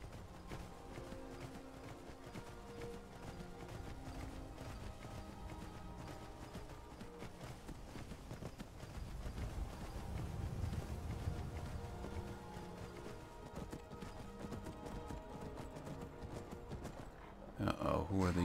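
Horse hooves clip-clop in the video game Skyrim while riding along a twisting path, a quiet continuous rhythmic beat under game music and ambience, with a voice talking over it.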